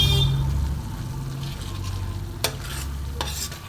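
Pickle and spices being stirred and sautéed in a pan for achari paneer: a close sizzle with scraping stirs, and a couple of sharp utensil knocks against the pan.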